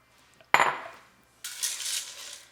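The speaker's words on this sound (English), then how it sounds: "Give it a stir and try to get the macaroni under the liquid" A utensil stirring elbow macaroni goulash with fire roasted tomatoes and corn in a pot, a sharp metallic clink and scrape followed by a wet, sloshing stir, close and brief.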